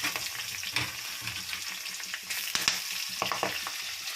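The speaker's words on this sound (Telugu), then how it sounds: "ఆయిల్ వేడెక్కింది. పచ్చిమిర్చి వేసుకున్నాం. జీలకర్ర, మెంతులు వేసుకున్నాం." Green chillies, cumin and fenugreek fry in hot oil with a close, busy crackle and sizzle, broken by sharp pops and stirring clicks, and no voices.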